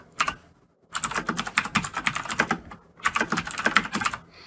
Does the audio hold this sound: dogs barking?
no